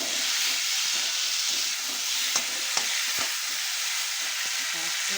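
Potato curry sizzles steadily in a hot pan with a constant hiss, broken by a few sharp clinks of stirring.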